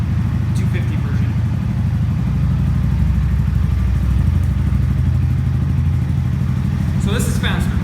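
Ridden at speed, an X22 125cc motorcycle gives a continuous close buzzing engine drone with road and wind rumble beneath it, loud and steady throughout.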